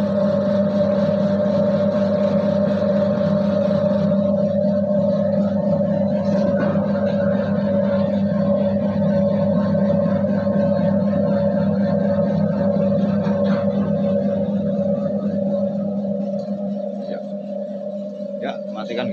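A homemade horizontal mixer runs with a smooth, steady motor hum that holds an even drone for the whole stretch and fades slightly near the end, with no talking over it.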